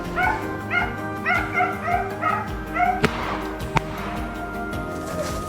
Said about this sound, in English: The dogs had locked onto another group, barking loudly and stirring up a frenzy.